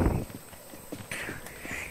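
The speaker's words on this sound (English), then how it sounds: "Do you guys still hear his footsteps?" Footsteps of an enemy player in the video game Infestation, a few soft, muffled steps at a distance, quiet and brief with no speech over them.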